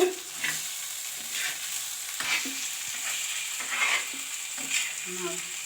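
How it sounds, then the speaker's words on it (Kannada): Fish tawa fry with masala sizzling in a pan, a steady close hiss broken by regular scraping and stirring strokes, with no talk. "ಮಸಾಲೆ ಎಲ್ಲ ಚೆನ್ನಾಗಿ ಫ್ರೈ ಆಗೈತೆ ನೋಡ್ರಿ ಈಗ ಸಂಪೂರ್ಣವಾಗಿ ಮೀನು ಫ್ರೈ ಆಗೈತೆ"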